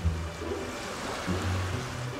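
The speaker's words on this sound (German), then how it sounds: "Jetzt scheint es mehr Wellen zu geben." Cartoon water waves washing and sloshing in a steady, moderately loud wash with low swells rising and falling, no voices over it.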